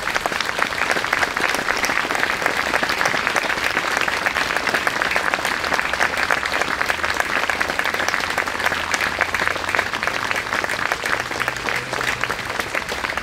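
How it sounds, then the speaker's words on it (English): A crowd applauds steadily at a Granby Memorial Day ceremony in 2021, with dense, continuous clapping that holds an even level for about thirteen seconds and no voices over it. "Please give them a round of applause."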